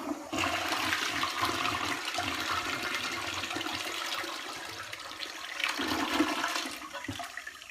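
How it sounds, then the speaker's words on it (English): A toilet flushes after its bowl was acid-cleaned of hard water stains, a loud, steady rush of water for several seconds that surges again near the end, with no voices. "Let's just see what it looks like after I flush."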